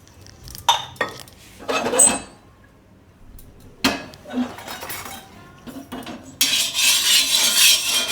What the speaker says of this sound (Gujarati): હવે આને શેકી લેવું આપણે. આમાં થોડુંક તેલ નાખી દેવું.